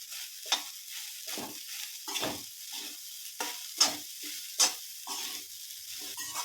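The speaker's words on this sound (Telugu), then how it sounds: "ఇలా మొత్తం రైస్ వేసేసుకొని ఇలా మంచిగా కలుపుకుందాం ఫ్రెండ్స్." Cooked rice being stirred into fried onions in a pan for simple onion rice: a spoon scrapes through the pan in repeated strokes about once a second over a faint, steady sizzle.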